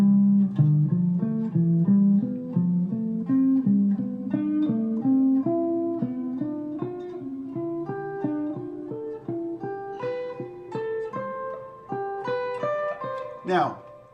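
Guitar running through a series of triads, plucked notes stepping upward one after another in an even rhythm, clear and close, ending with a brief strum.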